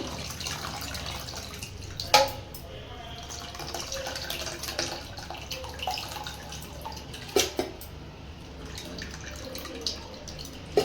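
Mango pulp juice drips and trickles through a strainer into a bowl, with occasional small splashes and clinks against a low background hiss.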